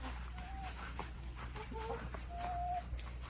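Chickens cluck and croon softly nearby in a few short calls, over a steady low hum of background noise.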